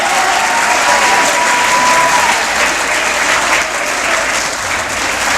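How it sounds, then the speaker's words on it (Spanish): A large crowd applauds loudly and steadily at the close of a high school history lecture, a dense continuous wash of clapping that holds for several seconds without voices. "vamos a despedir al maestro con un fuerte aplauso"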